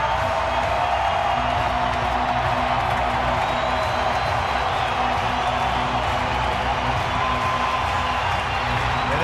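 Baseball stadium crowd at a San Diego at San Francisco game roaring and cheering in a steady, dense wall of noise, loud and sustained throughout with whoops mixed in.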